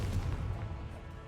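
A Confringo fire-blast spell goes off in Hogwarts Legacy, a dull, booming low burst that rumbles steadily for just over a second, moderately loud with no talk over it.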